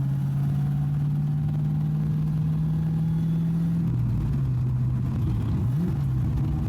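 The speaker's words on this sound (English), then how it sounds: "Engine's smooth." A Fox Body Mustang engine hums steadily while driving, holding an even drone for several seconds before the pitch dips and wavers as the throttle changes; close, continuous, no talk.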